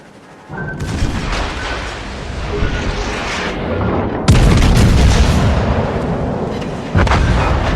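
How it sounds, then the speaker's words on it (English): Naval cannon fire from a cruiser battle in World of Warships Legends: heavy, booming salvos with a sustained rumble that swells and then crashes louder partway through, while a voice talks faintly underneath. "There's a nice double Citadel shot."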